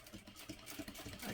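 A sewing machine stitches along the side seam of a unisex tote bag at 1/8 inch seam allowance, a steady close whirring hum with a faint pulsing rhythm, heard alone.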